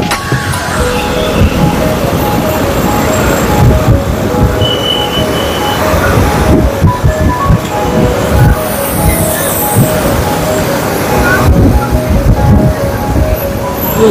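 A train near Vashi rumbles past close by, a loud continuous roar of wheels on rails with metallic squeals, carrying on steadily for the whole stretch with no voices.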